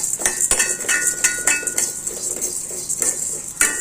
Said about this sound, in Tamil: நல்லா வறுபடட்டும் பருப்பு